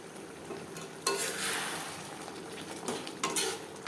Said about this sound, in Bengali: লো ফ্লেমে আমি ঢাকনা চাপা দিয়ে আরও ছ মিনিট মতো রান্না করে দিলাম